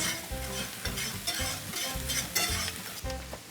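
Minced garlic cloves and shallots sizzle in hot oil in a pan while being stirred, a crackling fry with rhythmic scraping strokes roughly every half second, close and moderately loud.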